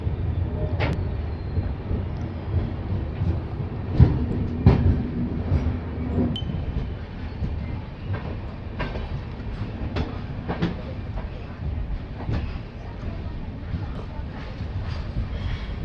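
Sealdah–Puri Duronto Express pulling away from a halt, a steady low rumble of rolling wagons with scattered rail clicks and knocks, continuous and fairly near.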